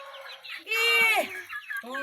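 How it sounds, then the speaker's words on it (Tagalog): Chickens being fed give a burst of excited clucking and squawking, loudest in the middle of the short stretch, with a few quieter calls on either side. "Pakainin mo yung mga chicken."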